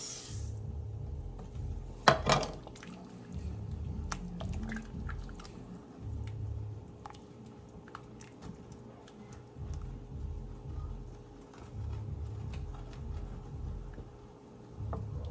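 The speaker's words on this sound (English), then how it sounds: "Now I'm just stirring." Rice just added to a pot for rice and beans being stirred, giving a steady, soft, wet scraping and shuffling that rises and falls in rhythm, with one sharper knock near the start.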